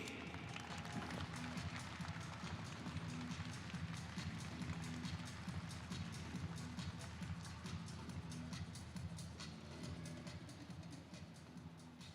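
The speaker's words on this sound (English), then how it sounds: "Come on, ladies and gentlemen, round of applause." An audience at the Toyota Gazoo Racing Velocity Esports Championship 2019 grand final claps in a dense, steady patter, faint and distant, holding evenly throughout.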